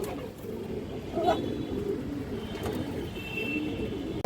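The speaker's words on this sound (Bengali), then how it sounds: "ফুল সুস্থ সবল কবুতর" Pigeons for sale at a market coo softly and intermittently, faint against a broad murmur of background noise.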